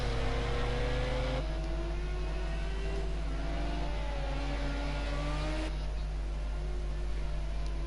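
Ford Sierra Cosworth Group A race car accelerating out of the chicane at Zolder, engine revs climbing through several upshifts, loud and steady throughout.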